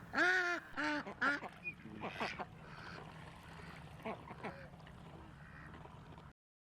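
American coots scuffle in the wild, giving loud harsh squawks and honking calls in quick bursts early on, then splashing and scattered fainter calls as the scuffle dies down.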